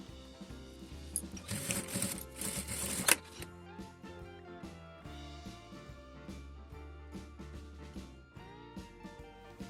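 A sewing machine runs in a short fast burst while stitching a straight seam on a pouch. A quiet mechanical whir plays over soft background music, and clicks follow.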